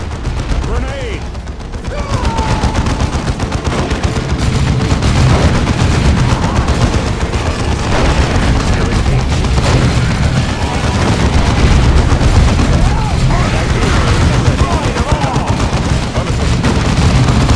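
Battle in the strategy game Warhammer 40,000: Dawn of War II, with a grenade explosion amid dense, continuous gunfire and booms, loud throughout, with combat voices shouting in places.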